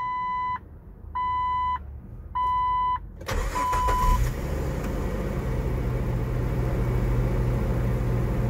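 A 2002 Jeep Wrangler Apex with 126,734 miles: three evenly spaced dashboard chimes, then the starter cranks and the engine catches, settling into a steady close idle rumble.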